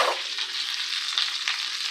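An egg fries in a hot pan, hissing and sizzling in a bright, steady crackle with small pops. It is close and continuous, with no voices.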